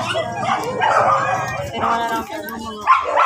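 Dogs bark, yip and whimper in a busy space during anti-rabies vaccinations while several people talk over them nearby.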